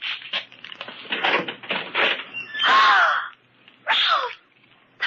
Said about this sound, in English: Ralph, open that closet door.